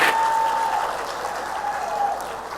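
Audience applauding teachers from two middle and junior high schools at a furniture store's teacher appreciation event, steady dense clapping sustained for nearly three seconds and easing slightly toward the end.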